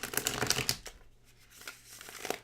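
Playing cards are shuffled at close range in a quick crisp riffle burst, followed by a softer pause and a second riffle near the end, with no talking.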